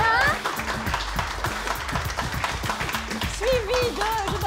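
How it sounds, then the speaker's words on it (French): An audience applauds a contestant introduced at a televised show on Réunion, steady clapping that swells and continues while a presenter's voice talks over it. "le premier candidat sous vos applaudissements, Loïc"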